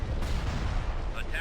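Heavy long-range turbo lasers fire in the Star Wars Squadrons space combat game, a dense, booming barrage of rapid blasts filling the scene at close range, with voices talking over the din.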